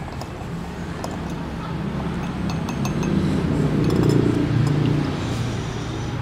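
Tea poured straight from a clay teapot into a glass holding rock sugar, at a Javanese noodle stall that cooks over charcoal; a steady splashing pour swells and fades over several seconds, with light glass clinks and background street noise.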